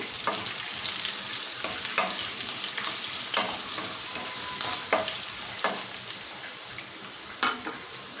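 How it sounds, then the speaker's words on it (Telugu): Dried red chillies frying in hot oil for pulihora, a Telugu tamarind rice dish, give a steady close sizzle with repeated sharp stirring scrapes across the pan and no voices. "ఇప్పుడు వెండిమిర్చి వేసేస్తున్నానండి"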